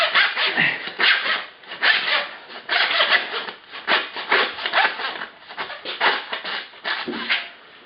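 A knife saws through a beef hind quarter during butchering, producing steady rasping, scraping strokes in a repeated rhythm, close and fairly loud, with no talking.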